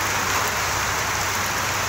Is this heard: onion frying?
no